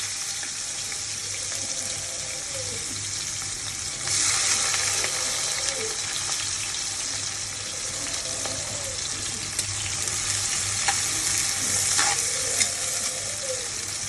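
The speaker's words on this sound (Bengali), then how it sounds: "প্রথমে আমি তেল দিয়ে নিয়েছি, এবার আমি পেঁয়াজ দিয়ে নেবো।" Onions sizzle and fry steadily in hot oil with capsicum, a constant close hiss with occasional stirring scrapes, no voices.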